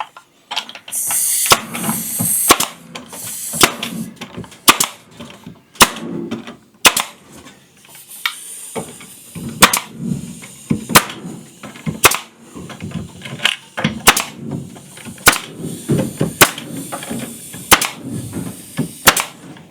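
Pneumatic nail gun fires repeatedly, driving nails into art deco trim in a bathroom: sharp, loud cracks with hissy air bursts at irregular intervals of a second or two, heard close and without talk.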